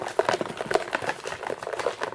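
Slips of paper shuffled by hand inside a box, a soft papery rustling with irregular crinkly bursts, close and fairly quiet, no talking.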